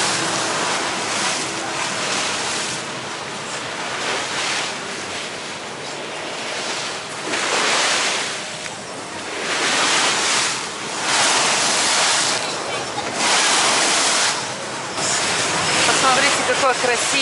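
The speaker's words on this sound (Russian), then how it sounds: "Очень сильные волны" Strong open-sea waves off Alanya, Turkey, surge and crash in repeated broad swells beside a yacht, loud and close, with wind buffeting the microphone throughout.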